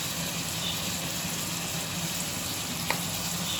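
Chicken pieces seasoned with pepper and salt go into a hot pan for a cheesy pizza topping, giving a steady, moderately loud broadband sizzle with one brief clink near the end and no talk.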